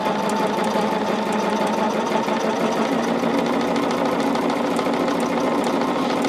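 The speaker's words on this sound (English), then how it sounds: "Sewing everything at that 1/4 of an inch." A sewing machine stitching quarter-inch seams in dark and medium quilt fabrics, close and constant: a steady, fast mechanical whirring hum with no pauses.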